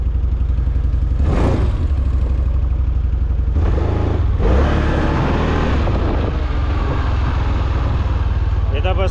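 A CFMoto G3 1000 ATV pulls away and drives, its engine a loud continuous drone that rises in bursts with mechanical clatter.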